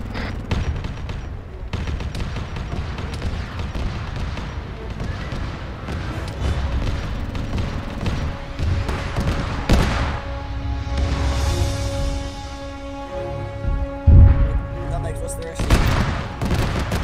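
Mortar rounds land in an Arma 3 battle as a running series of distant booms and rumbling impacts, some heavier thuds standing out, with steady background noise and a few voices.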